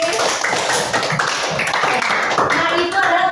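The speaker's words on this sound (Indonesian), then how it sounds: "Tepuk tangan lagi" An audience at a teacher training session on computational thinking and coding claps together in a steady, dense patter, with voices mixed into the clapping throughout.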